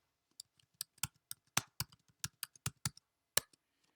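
Light clicking keystrokes on an office computer keyboard during work order entry, about fifteen irregular taps spread over four seconds, close and quiet with no speech.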